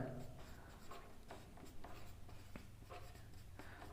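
A Class 10 maths solution being written out by hand: scratchy pen strokes come in short, repeated bursts over a low steady background, close and fairly quiet.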